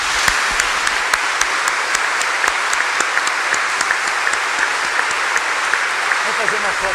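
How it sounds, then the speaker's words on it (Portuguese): Sustained applause from a church congregation at a Mass, dense and steady clapping throughout with a few sharper claps standing out. "e também por uma grande salva de palmas agora."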